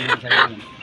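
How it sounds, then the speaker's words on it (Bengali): Chickens on a poultry farm give two short clucks in quick succession, close and moderately loud, within less than a second, with some background murmur. "মুরগি"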